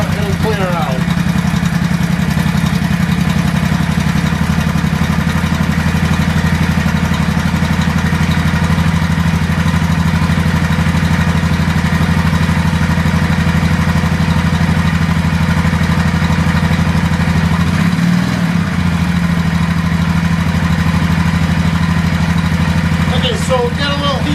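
A small, slightly flooded engine runs at a steady idle throughout, its low, even drone loud and close with no pauses.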